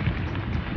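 A thunderstorm with heavy, driving rain lashes a tent at night on a first camping trip, a continuous loud wash of noise that never lets up, with nobody speaking.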